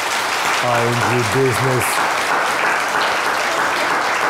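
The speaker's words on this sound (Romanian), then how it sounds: "Aplauze pentru Toma Alexandru și Pro!" A studio audience applauds steadily throughout for Toma Alexandru on a comedy show, a continuous wash of clapping with someone briefly speaking over it near the start.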